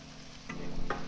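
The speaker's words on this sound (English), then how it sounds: "Keep on stirring. You want this to be a nice scramble." Eggs scrambling with sausage and onions in a hot pan for a breakfast burrito, a steady sizzle broken by two sharp scraping strokes of a spatula, close and moderately loud.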